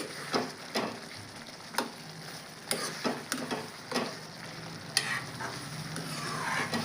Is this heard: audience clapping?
no